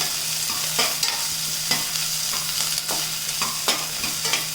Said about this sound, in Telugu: ఇప్పుడు మట్టికి ఉప్పు వేయకుండా కొంచెం దీన్ని వేపిద్దాము ఉల్లిపాయని